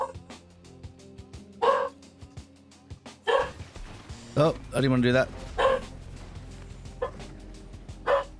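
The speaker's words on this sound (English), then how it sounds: "Apologies for the barking, that's my dog." A dog in the room barks repeatedly in loud, sharp bursts over game sound effects from Fortnite, while someone speaks briefly.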